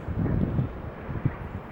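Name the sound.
wind blowing on microphone outdoors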